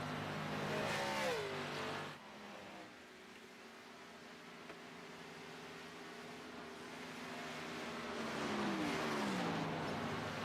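Engines of race cars running warm-up laps at Charlotte in a racing game, a steady droning whine with pitch sweeps as a car shifts and revs near the start and again near the end, fairly loud and continuous.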